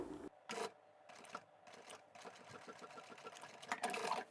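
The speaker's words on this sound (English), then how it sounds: "I'll stop at the mark I've made and backstitch, and move on up to the other mark I've made" A sewing machine stitches fabric close by, with short bursts of rapid mechanical whirring broken by brief pauses for backstitching. A longer steady run follows, quiet and alone with no voices.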